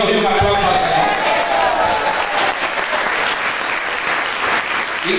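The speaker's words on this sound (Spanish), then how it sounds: "denle gloria a Dios y un aplauso al Señor." A church congregation at a sermon breaks into sustained, loud applause that fills the room, with voices calling out beneath the clapping.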